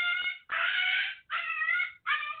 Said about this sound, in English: We got a dog howling.